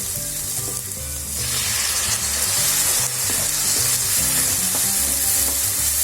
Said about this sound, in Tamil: இப்போது வெங்காயம் இப்போ நல்லா வதங்கிருச்சு. இப்போ இதில் தக்காளி சேர்த்துக்கலாம்.